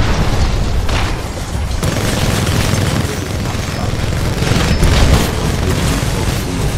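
Cannon blasts and heavy explosions from the Titanfall 2 shooter, a dense, loud barrage of booming impacts and rumbling combat noise running continuously with several sharper bursts, game voices faint underneath.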